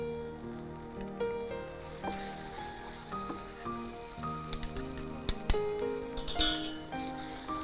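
Spice masala of mustard seeds, cumin, fenugreek and roasted ground powder sizzling in oil in a pan on high flame, crackling steadily while a spoon scrapes and clinks against the metal, growing busier toward the end.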